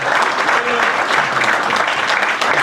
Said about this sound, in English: hold your applause for 1 second